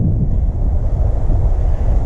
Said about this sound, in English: It's probably about 40 degrees and really super windy.